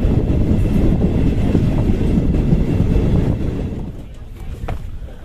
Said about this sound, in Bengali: আমাদের ট্রেন এই মুহূর্তে এসে পৌঁছলো তার যাত্রাপথের 3য় স্টেশনে।